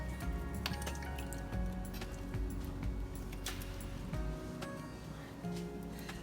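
Dorito chicken casserole ingredients are dumped from cans and stirred together, giving wet squishing and plopping sounds mixed with light clinks of a spoon against the dish, close and fairly quiet.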